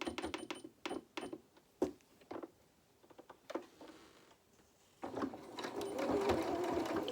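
Domestic sewing machine stitching a waistband onto jeans, short bursts of rapid mechanical whirring with pauses between, then a longer continuous run, close and clear.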